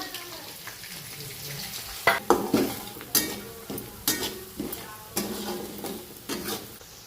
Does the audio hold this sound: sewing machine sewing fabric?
no